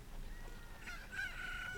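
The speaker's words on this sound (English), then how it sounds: "And we now have a chicken from that egg." A newly hatched chicken in Zelda: Ocarina of Time lets out a short, thin crowing cry near the end, rising over a low hiss of game ambience.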